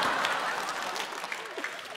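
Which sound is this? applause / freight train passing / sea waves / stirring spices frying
applause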